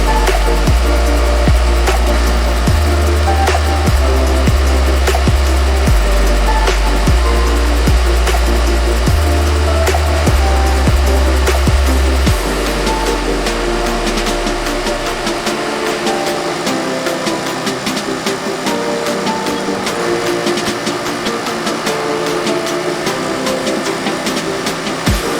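An embroidery machine stitching a neon orange design onto a hat, with a fast rhythmic clatter and loud low thumping pulses for the first half, then a lighter steady mechanical chatter continuing alone.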